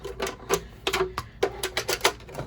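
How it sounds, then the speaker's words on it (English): Paper trimmer slicing cardstock for a Halloween treat box, a string of sharp, close clacks and snips in uneven rhythm, about ten crisp strokes in quick succession. "Let's get our paper cutter and just snip off some"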